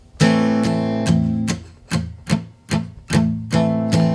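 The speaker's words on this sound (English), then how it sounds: "if you move your hand slightly closer to the sound hole, it mutes all the way." Steel-string acoustic guitar strummed with palm-muted strings, about nine short, percussive chord strokes in a loose rhythm, close and clear with no talk.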